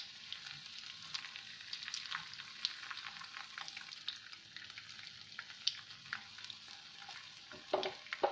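Bun kabab patties topped with egg fry in a pan with a steady, quiet sizzle and crackle and occasional small pops, with no voices.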